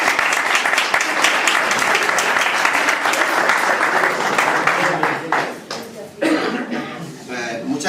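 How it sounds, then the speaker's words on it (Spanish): An audience at a mystery-themed gathering in Benamaurel gives a speaker a sustained round of dense applause, loud and steady before thinning into scattered claps, with a few coughs and murmurs mixed in. "así que un fuerte aplauso para Antonio."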